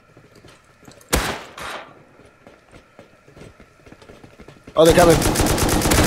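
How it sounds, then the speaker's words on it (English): Gunfire in the survival game Rust: one sharp shot early, sparse clicks and ambient noise, then a loud sustained burst of rapid automatic fire, with someone briefly speaking over it. "Oh, they're shooting."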